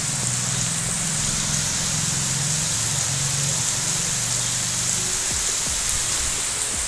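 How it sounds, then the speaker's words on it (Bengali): Steady rain falls after a long dry spell, heard through an open window as a continuous hiss, with a low hum underneath for the first few seconds. "এতদিন পর বৃষ্টি পড়ছে।"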